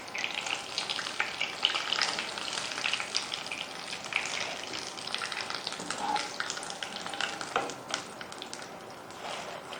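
Potato cheese kabab frying in oil in a pan, a steady close crackling sizzle with scattered pops and bubbling, continuous throughout with no talking.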